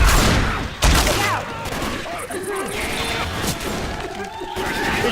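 Rapid gunfire aimed at a witch zombie in Left 4 Dead 2, a dense run of bursts and impacts over busy game noise, loud and continuous throughout, with a voice faintly mixed in.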